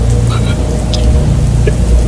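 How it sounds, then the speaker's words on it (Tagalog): A heavy downpour serves as a sound effect in a Filipino horror audio drama, a loud, dense, continuous wash of rain with a low rumble beneath it and faint, brief vocal fragments over the top. "Masyado nang malakas ang ulan."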